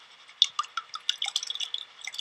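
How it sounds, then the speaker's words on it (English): Water and light loose dirt run off a tipped gold pan into a bowl, making a quick, close patter of drips and splashes that grows denser toward the end. "let the water and the light loose dirt run off into the bowl."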